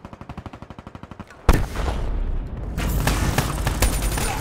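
Black Ops 3 gunfire crackles in a fast string of sharp shots, then a loud blast erupts into dense, rolling bursts of shooting and explosions that stay close and heavy until the end.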